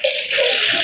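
Water pours and splashes in a steady, close rush onto a tiled floor during house cleaning, with no speech.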